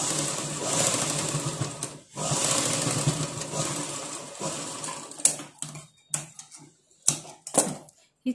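Sewing machine stitching a strip on a blouse, running in steady bursts for about five seconds, then stopping and starting in short, uneven spurts near and clear.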